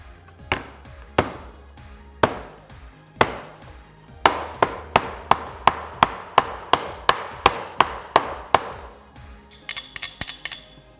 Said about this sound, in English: I'm going to use a hammer on this one.